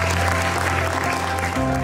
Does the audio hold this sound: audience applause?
yes